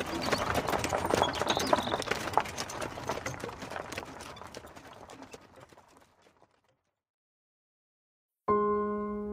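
Horses pulling a merchant's cart on the road, hooves clip-clopping in a dense, steady rhythm that gradually fades away, followed by a brief silence and then sustained music.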